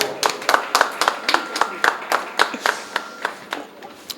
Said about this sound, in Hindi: जोरदार ताली बजाइएगा।